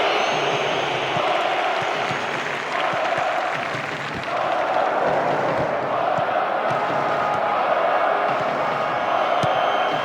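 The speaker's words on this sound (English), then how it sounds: "The crowd close to the pitch makes for a good atmosphere." A vast stadium crowd in the Pro Evolution Soccer 2010 video game keeps up a steady, dense roar for the whole stretch, with swells of cheering and scattered shouts rising out of the wash of noise.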